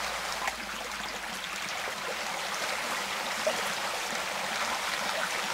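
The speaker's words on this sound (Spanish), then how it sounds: "Vamos cogiendo un poquito de agua, aprovechando la corriente" Flowing river water swirling in a gold pan while panning for gold, an even, close rushing and gurgling wash that holds steady throughout with no speech.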